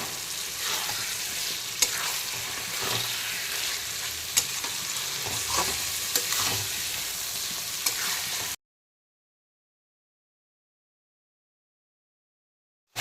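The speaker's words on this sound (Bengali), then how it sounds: "আমি একে একে ভেজে রাখা চিকেন আর ভেজে রাখা আলুগুলোকে দিয়ে দেবো মশলার মধ্যে" Fried chicken and potatoes sizzle and crackle in a spicy masala with jackfruit, stirred steadily over medium to high heat, a loud continuous fry with faint spoon scrapes that cuts off abruptly partway through.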